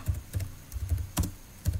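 Computer keyboard keys tapped in short bursts while typing a pip install command, crisp close clicks in an uneven rhythm, alone without talk.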